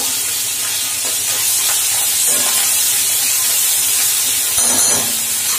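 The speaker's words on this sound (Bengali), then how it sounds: "এবারে দেবো একটু পেঁয়াজ বাটা, পেঁয়াজের বাটা দিলাম।" Onion paste sizzles and hisses in hot oil in a frying pan with a torn dried red chilli, a steady bright crackle that swells slightly near the end, with no talking.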